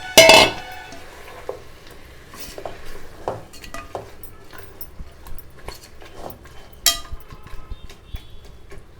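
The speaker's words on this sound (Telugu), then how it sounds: "ఇదిగోండి 1/2 కేజీ చికెన్ని దీనిలోకి వేసేస్తున్నానండి." Half a kilo of chicken tipped into a cooking pot for chicken pulao, a metallic clank followed by scattered clinks and stirring scrapes against the pot, fairly close.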